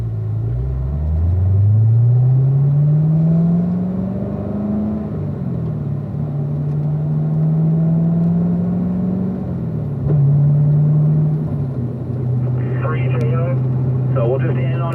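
Cars on a race track run slow cool-down laps, heard as a loud, steady, close engine drone that rises gently in pitch, then settles and holds a low, even rumble with slight dips as the pace stays easy.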